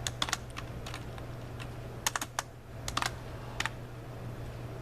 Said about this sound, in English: Actually, I better type that out.